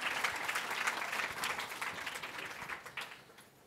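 An audience at a Chicago art-fair panel talk applauds to welcome the panelists, dense steady clapping that gradually tapers off.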